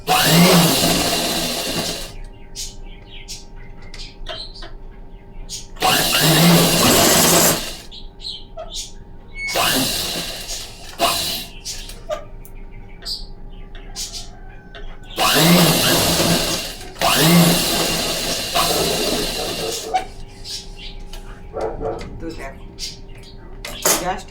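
A sewing machine stitches a pillow frill in repeated loud bursts of a few seconds each, with a voice talking in the pauses between runs.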